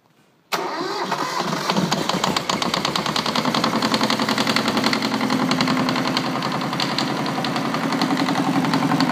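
A Volvo Penta MD2010 marine diesel engine cranks and catches after a brief quiet moment, then settles into a loud, close, rapid knocking run that continues steadily to the end.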